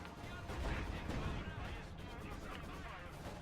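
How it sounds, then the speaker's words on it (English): Maxim machine guns firing at distance in Company of Heroes 2, a dense rumble of distant gunfire and artillery-like booms under game noise, steady and fairly loud throughout. "The Maxim machine guns doing a lot of work at distance."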